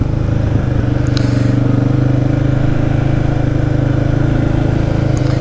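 A Can-Am Outlander 700 ATV engine drones steadily while riding, with a loud continuous low rumble and a couple of brief scraping clicks over it.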